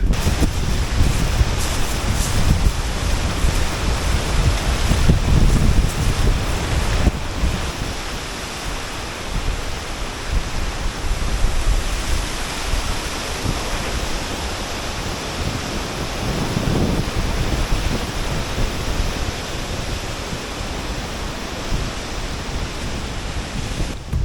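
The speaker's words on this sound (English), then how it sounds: "Finally, I'm getting closer to the river." A Himalayan river rushes steadily nearby, a dense, continuous roar of flowing water with wind noise buffeting the microphone, loud throughout with small swells in intensity.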